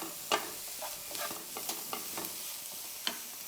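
Sabudana sundal, tapioca pearls being mixed in a pan, with a spoon scraping in short repeated strokes over a steady low sizzle; close and clear, with no voices.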